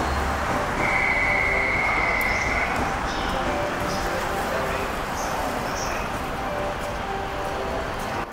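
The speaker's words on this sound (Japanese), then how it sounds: "209系上り電車登場。" A JR 209 series commuter train rumbles steadily past nearby at Ochanomizu Station, with a brief high whine early on and continuous wheel noise throughout.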